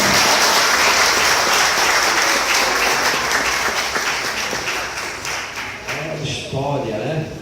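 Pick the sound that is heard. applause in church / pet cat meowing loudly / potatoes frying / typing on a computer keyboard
applause in church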